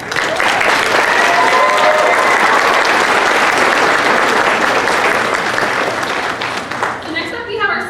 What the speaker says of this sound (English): So again, a round of applause for everyone.